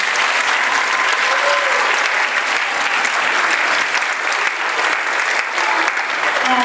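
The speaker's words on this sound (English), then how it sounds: "Let's give Emma another round of applause" Sustained applause from a live audience at a concert performance, steady dense clapping at full volume throughout with no voices over it.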